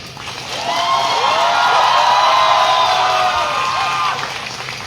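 An audience at a homeopathy students' meeting cheers and whoops, a roar of voices that swells quickly, holds loud and steady, then eases off near the end.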